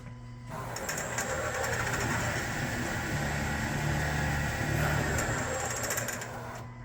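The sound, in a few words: Hardinge Omni-Turn CNC lathe running a short program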